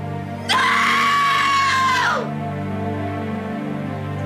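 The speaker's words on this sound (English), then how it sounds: "That is definitely a scream that will live in my head forever." A woman's long, shrill scream rises sharply, holds loud for about a second and a half, then trails off, leaving a low steady hum behind.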